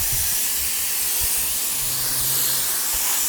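A steady, close hiss of UV protective treatment being sprayed onto outdoor furniture continues without a break, broad and airy, with faint low thumps underneath.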